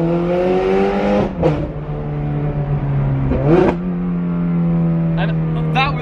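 A straight-piped Ferrari 430 Scuderia roars with a loud, steady engine drone broken by quick throttle blips and sharp pops, while people talk nearby.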